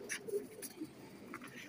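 Soft cooing from a silver-eyed Rampuri pigeon, a few low murmuring coos spread through the stretch, faint and close with light background noise.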